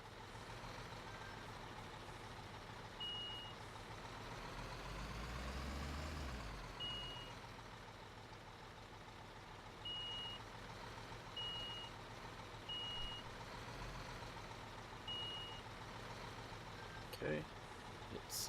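A truck's reversing alarm beeps at steady intervals while backing a trailer into place in Construction Simulator 15, repeated high tones over a low engine rumble, with someone talking through it.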